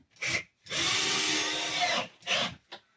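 A power drill screw gun fitted with a Phillips bit, used during a bathroom sink and vanity replacement: a short whir, then a sustained high-pitched run of about 1.3 seconds, followed by two brief bursts, close up with no voices.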